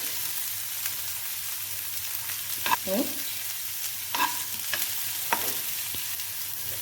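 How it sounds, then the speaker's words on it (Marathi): Chopped onion sizzles in a spoonful of hot oil in a pan. A steady frying hiss runs throughout, with a few sharp scraping clicks as it is stirred. No one speaks. "आता आपण याच्यामध्ये पहिल्यांदा कांदा टाकून घेऊया आणि आपण याला थोडंसं फिरवून घेऊया"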